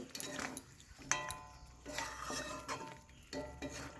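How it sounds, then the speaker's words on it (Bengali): Potatoes tumble into a pan where chicken is cooking for a quick bachelor-style chicken curry, giving a sharp clatter followed by sizzling, scraping and stirring against the metal pan, close and fairly loud. "তো এরপরে আলুগুলো দিয়ে দেবো"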